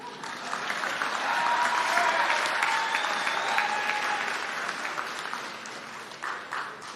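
A crowd under a tent at a community college commencement breaks into applause, a sustained wash of clapping that builds, holds and slowly tapers, with faint voices and whistles woven through.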